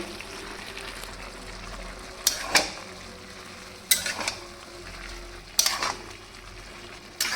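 Potatoes and cauliflower with poppy seed are stirred in a pan: four sharp spoon scrapes come at a steady pace over a quiet background sizzle.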